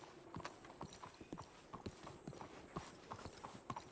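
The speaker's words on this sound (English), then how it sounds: "What is this horse doing?" Horse hooves clip-clop in a video game, a quick uneven run of soft clicking steps, close and faint, with no voices.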